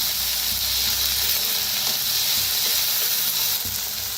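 Chopped onions sizzling in hot oil in a pan for an onion and masoor dal, a loud, continuous, close frying hiss with faint stirring clicks.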